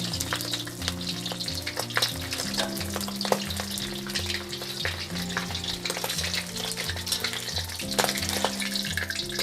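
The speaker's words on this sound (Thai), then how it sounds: "แล้วเราก็ ใช้น้ำมันเนาะ ราดไข่แดงสักเล็กน้อยค่ะ" Egg frying in hot oil, with oil spooned over the yolk: a continuous crackling sizzle with sharp pops and a low hum underneath, close and steady, no talking.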